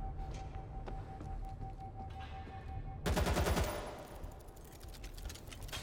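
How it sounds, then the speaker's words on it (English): A machine gun turret fires in the World War Z video game, opening midway through with a sudden burst of rapid, dense gunfire over a constant low hum and scattered game noise. "Machine gun turret ready."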